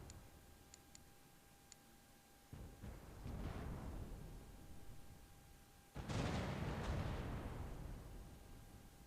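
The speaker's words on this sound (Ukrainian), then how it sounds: "Давай я теж тоді з основних гармат трошки йому роздам." Ship main cannons fire in The Pirate: Caribbean Hunt, two booming volleys a few seconds apart, each with a rumbling decay over faint ticking game sounds.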